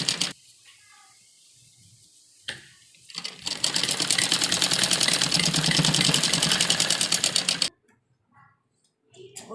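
A sewing machine stitches the sleeve seams of a V-shape umbrella frock, a few short bursts giving way to a long, loud, fast rhythmic run that stops abruptly.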